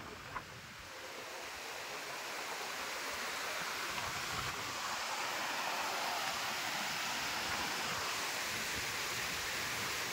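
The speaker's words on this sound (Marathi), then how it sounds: "लाटा बघू शकता खतरनाक आहेत मित्रांनो." Steady roar of ocean surf breaking continuously at Dahanu beach, Palghar, with gusty wind noise buffeting the microphone throughout; no voices.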